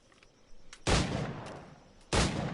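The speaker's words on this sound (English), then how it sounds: "Pull off a few shots if you like." Two loud, close pistol gunshots ring out in Assassin's Creed IV, separated by about a second of quieter ambience, each a sharp crack with a booming tail.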